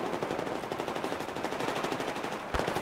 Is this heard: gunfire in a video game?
yes